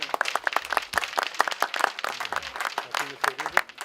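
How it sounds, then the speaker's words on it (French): An audience at a club meeting claps for a new president, with distinct individual claps in a quick, uneven rhythm, and a voice speaking over part of it. "que je demande d'applaudir s'il vous plaît"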